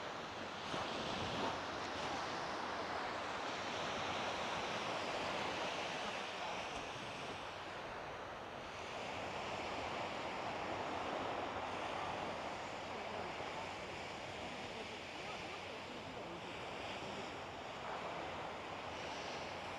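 Surf rolls onto a beach on the west coast of Japan in a steady, broad wash of breaking waves, with wind buffeting the microphone throughout and no clear voices.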